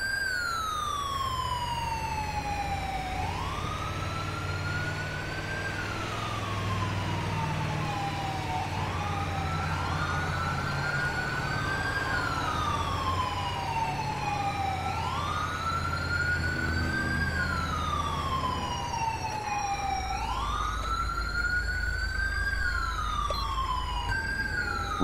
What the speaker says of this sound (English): I don't know why this police car is stuck with this siren over here.